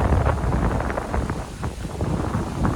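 Strong wind gusts through coconut palms on open land at Navatkuli, Jaffna, a steady broadband roar buffeting close to the microphone, with no voices.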